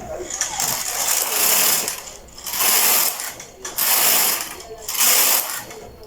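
Carriage of a knitting machine sweeps back and forth across the needle bed while knitting sleeve rows, four rhythmic whooshing, clattering passes close by, each lasting about a second.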